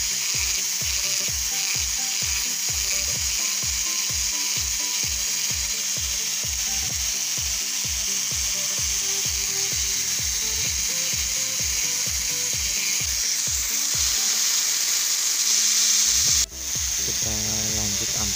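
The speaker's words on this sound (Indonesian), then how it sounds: "Dengan amplas 600 kita lanjut lagi proses, kita detailkan bagian-bagian" Hand sanding of a wooden carving of an old man's face with 600-grit sandpaper, detailing the beard: quick, regular rasping strokes repeat steadily and close, then stop briefly before resuming.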